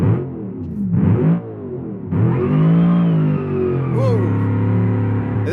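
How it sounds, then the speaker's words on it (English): A 427 V8 swapped into a street car in BeamNG.drive revs hard, its loud engine roar rising and falling in pitch with a whining gear note layered on top, broken by short gaps between bursts. "This car does not quite sound stock. Too much gear whine."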